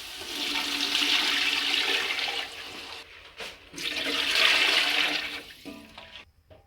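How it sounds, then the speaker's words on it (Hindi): Water pours steadily into a cooking pot for matar pulao, two litres added to a kilo of rice, a broad rushing stream in two sustained bursts with a short pause between, ending in a few faint clinks. "1 किलो हमारे चावल हैं और इसलिए हम 2 लीटर इसके अंदर पानी ऐड करेंगे।"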